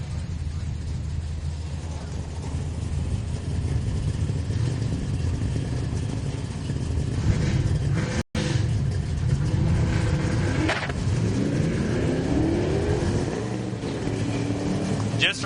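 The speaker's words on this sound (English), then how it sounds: "Gary Satterley coming up in the 67 Camaro RS. Bryce Hungerford, 95 Camaro in the right-hand lane" Drag racing cars, a 1967 Camaro RS and a 1995 Camaro, roaring loudly with engine noise throughout; a brief cutout comes midway before revving resumes and rises toward the end.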